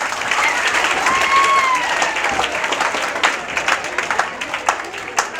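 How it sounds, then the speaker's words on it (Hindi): An audience breaks into loud applause for a child, dense clapping filling the room at close range and thinning toward the end, with a few voices and whistles mixed in. "इस बच्चे के लिए जोरदार ताली"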